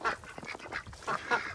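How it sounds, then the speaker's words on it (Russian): Ducks outdoors at a country house in Canada in winter give several short raspy quacks in quick irregular bursts, fairly close and clear with no talking. "Ой, утки, утки."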